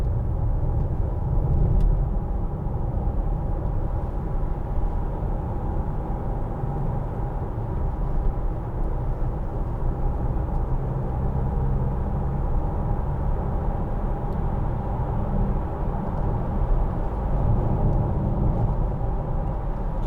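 Steady road rumble and low engine drone from a 2012 Land Rover Freelander 2 TD4 diesel cruising on a rough-surfaced motorway, heard from inside the cabin as a continuous, even roar with no talking.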